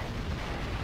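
Missile blast in the 007 Nightfire game on GameCube, a dense, rumbling explosion roar that fills the whole short moment at steady loudness, with no voices over it.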